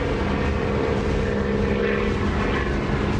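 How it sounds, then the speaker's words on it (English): A propeller aircraft engine drones steadily in the DCS flight simulator game, a loud, even hum with a low rumbling throb that holds without a break. "I love the sound of this engine when you're off."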